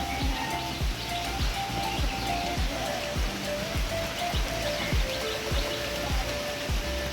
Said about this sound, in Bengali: দেখো বৃষ্টি নেমে গেল।